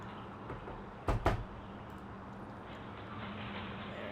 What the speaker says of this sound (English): Special code to unlock the door since it's motion activated.